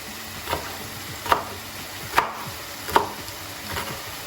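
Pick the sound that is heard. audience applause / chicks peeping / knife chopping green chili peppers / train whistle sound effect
knife chopping green chili peppers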